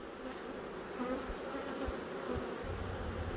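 A dense, steady buzzing of many honey bees at an open hive, close and continuous, with a few low bumps of frame handling noise underneath.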